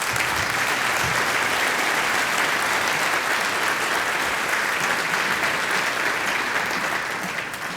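Sustained audience applause fills a gala awards dinner hall, dense and steady throughout before tapering slightly at the end, with no voices rising above it.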